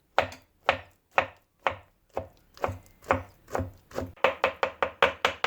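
Knife chopping peeled roasted eggplant finely on a board, sharp close thuds in a steady rhythm that quickens into rapid repeated cuts toward the end, with no voices.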